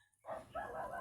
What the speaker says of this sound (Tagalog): ang ingay talaga ng aso